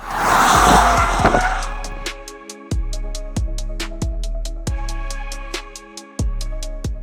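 A Porsche Cayenne GTS or Panamera GTS engine heard from outside the car: a loud roaring rev for about two seconds, then a steady idle burble broken by sharp, regularly spaced exhaust pops, with no talk.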